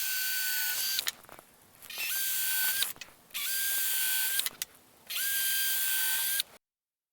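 A power drill bores pilot holes into wooden blocks in three separate bursts, each whining up to speed and holding a steady high pitch before stopping, close and loud with short pauses between.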